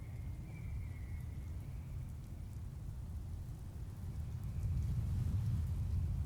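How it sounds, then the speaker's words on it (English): Steady rain falling in the Fallout 76 game world, a soft continuous hiss and patter that swells slightly louder toward the end, heard alone with no talk. "Although the rain is nice."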